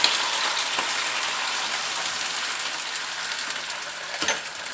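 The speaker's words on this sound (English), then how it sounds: "I heat up nice olive oil, and here they go. You already hear it sizzling." Seafood sizzles in hot olive oil in a pan, a steady, fairly quiet crackling hiss with a couple of faint knocks.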